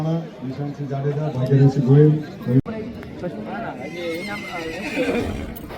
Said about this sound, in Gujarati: પહેલા નંબર આપણી ઘોડી માણેક